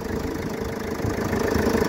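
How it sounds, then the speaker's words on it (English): A replacement engine in a Mercedes Vito runs at idle, a steady mid-low rumble with a slight knocking texture that swells a little toward the end. "we've got the engine to run"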